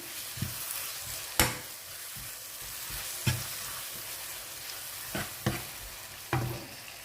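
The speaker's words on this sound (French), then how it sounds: "je vais mettre la tomate donc que j'ai coupée. Donc, je vais le faire revenir aussi dans les oignons" Tomato sautés with onions in a pan for a fish and shrimp caldou, with a soft continuous sizzle punctuated by several sharp spoon-against-pan stirring knocks.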